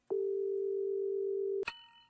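A telephone dial tone in an animated episode holds steady and loud for about a second and a half, then breaks off into a short electronic click and chirp.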